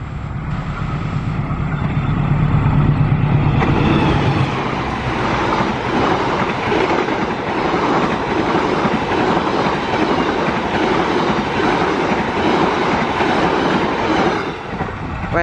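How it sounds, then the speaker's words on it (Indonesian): Argo Dwi Pangga passenger train speeding through a curve, a loud, close roar of rolling wheels and rattling cars with rhythmic clickety-clack that lasts the whole stretch. "Silakan simak kereta api Argo Dwi Pangga."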